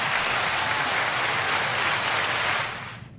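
Audience applause from a comedy podcast crowd, a dense steady wash of clapping that holds for about two and a half seconds, then thins and fades out.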